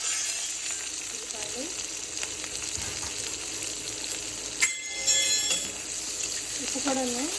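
Spices and chili powder fry in hot oil for homemade veg noodles, a continuous bright sizzle with occasional stirring scrapes and brief clatter, while a voice speaks quietly underneath.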